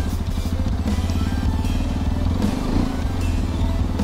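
A Hero Xpulse 210 motorcycle pulling away at the start of a ride, its engine producing a loud, close, steady throbbing rumble with a slight clatter throughout.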